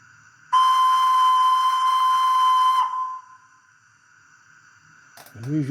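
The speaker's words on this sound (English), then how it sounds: "the usual whistles," A sound-fitted Bachmann V2 model steam locomotive gives one loud, steady whistle blast lasting about two seconds, then it cuts off, leaving quiet hiss and a brief mechanical clatter near the end.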